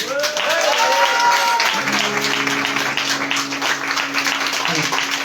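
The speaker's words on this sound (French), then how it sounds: "Moi j'aimerais vraiment qu'on les applaudisse pour ça ce soir" Audience applause during a live evening event, steady clapping filling the room while a voice and sustained tones sound beneath it, the clapping continuing evenly to the end.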